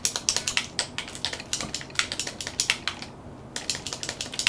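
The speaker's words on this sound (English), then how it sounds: "At least you get to type in your name." Quick, uneven clicking of keys on a Commodore Amiga keyboard as a name is typed, a steady patter of sharp taps with a brief pause midway, close and fairly quiet.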